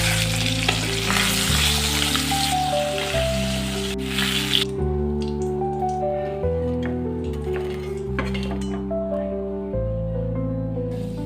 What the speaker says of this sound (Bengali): সব মাছগুলো আমি একই রকমভাবে সুন্দর করে ভেজে তুলে নিচ্ছি।